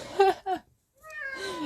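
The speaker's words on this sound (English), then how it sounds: "My cat is freaking out too." A pet cat lets out two short, close meows, pauses, then gives a longer wavering meow, loud and alone with no talking.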